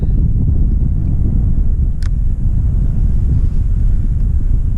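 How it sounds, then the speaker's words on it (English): Wind blows hard across an open tidal waterway during kayak fishing, a loud, continuous low rumble and buffeting against the microphone, with a brief faint chirp partway through. "Tide's coming in, and the wind's going the same direction."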